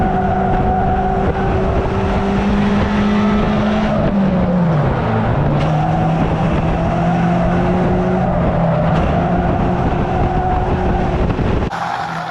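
Race cars running close together at Cowdenbeath Racewall, a loud continuous engine drone whose pitch sags and climbs as the cars jostle, ending with an abrupt cut.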